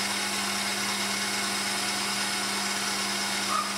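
A stand mixer whips egg whites with cooked sugar for Italian meringue, giving a steady, fairly loud motor whir with a constant hum and no talking.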